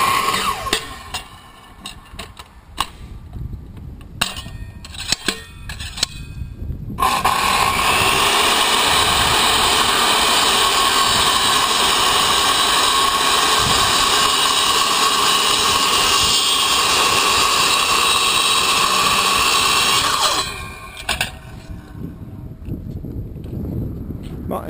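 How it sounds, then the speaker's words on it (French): A saw cuts through wood to rough out a shape before finer work with a chisel-like tool, a loud continuous buzzing drone that dominates for about fourteen seconds, with quieter workshop noise and a voice before and after. "Stéphane il délimite à la scie"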